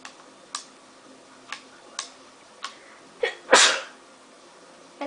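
A single sharp, loud sneeze bursts out close to the mic during an Assassin's Creed IV Black Flag gaming session, after a few scattered keyboard clicks.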